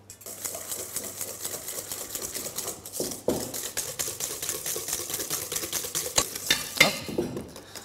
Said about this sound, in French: on pourra utiliser un batteur mécanique